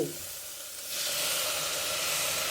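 Tomatoes drop into a hot pan and set off a loud sizzle that surges after a brief quiet moment, then holds as a steady, close crackling hiss.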